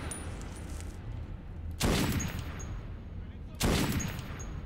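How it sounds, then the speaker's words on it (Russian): Kalashnikov rifle fire in the video game Metro 2033: two loud, sharp bursts a couple of seconds apart over a steady, noisy game background. "Вот кривой-то калаш, а?"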